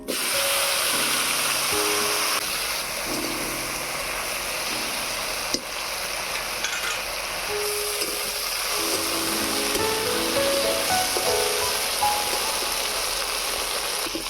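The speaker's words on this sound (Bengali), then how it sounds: "এবারে ভেজে নেব ঢেঁড়স।" Okra fries in hot oil, a loud, dense, rain-like crackle that holds steady and close throughout without letting up.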